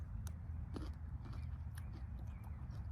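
Biting into fresh, raw, crunchy asparagus: a few quiet, crisp crunches and snaps at close range over a soft background, with no talking.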